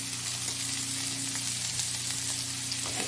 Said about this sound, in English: So why don't we let these saute about 3 minutes?